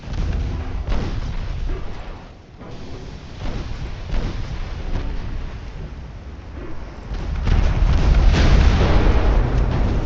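Deep booming launches and blasts of naval guns and torpedo fire in a Spanish-American War era warship battle game, rolling continuously with a louder, denser burst of explosions toward the end.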